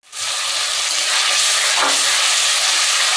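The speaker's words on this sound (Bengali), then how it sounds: "মাংস রান্নার জন্য আমি চুলার উপরে যে মশলা কষা নিচ্ছি।" Spices frying in oil on a stove, ahead of cooking meat with bay leaves added, a loud continuous sizzle and hiss that swells at once and holds steady, close up with no talking.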